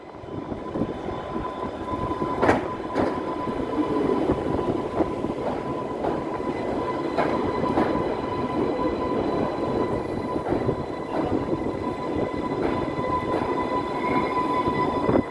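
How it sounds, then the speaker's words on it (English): An Island Line train rumbles steadily along the track down a pier, with clicking wheel joints and occasional thuds, heard from on board over a continuous low roar. "the train did make it down the pier"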